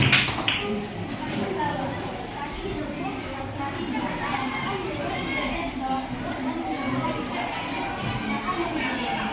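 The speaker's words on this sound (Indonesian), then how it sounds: "Oke, tepuk tangan. Bagus ya. Tepuk tangan." Students in a school classroom clap together, a steady patter of many hands with people talking over it throughout.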